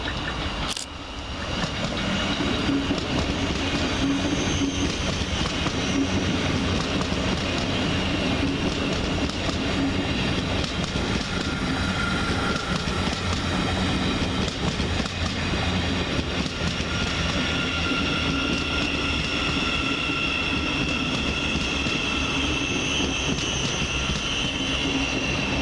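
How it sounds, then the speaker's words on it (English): Thameslink class 700 unit 700-126 arrives at platform 2 at Peterborough, terminating from Horsham, with a loud continuous rolling hum and electric whine that holds steady as it draws in, no voices over it. "And the next arrival for via Thameslink, terminating from Horsham, sees 700-126 arrive on platform 2."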